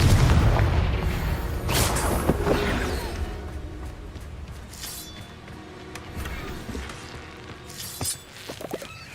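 Confringo and Bombarda spell blasts boom and crack in the Hogwarts Legacy video game, with a loud burst at the start, then rumbling impacts and scattered shattering debris that fade over several seconds.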